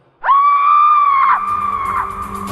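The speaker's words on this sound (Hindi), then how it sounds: "एक बड़ी ही दर्दनाक चीख मेरे कानों पर आ पड़ी" A loud, piercing scream erupts suddenly after a brief silence, holding a sustained shrill note for about a second before breaking off into a rougher, trailing cry with background rumble, used as a horror sound effect.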